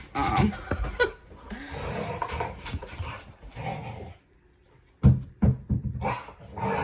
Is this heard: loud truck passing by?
no